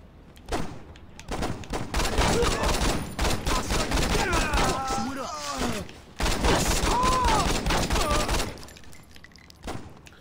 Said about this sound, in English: Oh, they're also shooting.